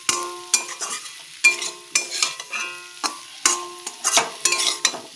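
Elephant foot yam and shrimp being stirred in a pan, a spatula scraping and knocking against the metal in repeated strokes over steady frying sizzle, close and clear with no talking.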